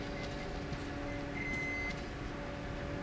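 In the video game Metro Exodus, a metal detector gives one short, faint, thin beep over a low, constant background hum.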